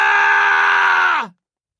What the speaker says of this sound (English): The scream hung in the room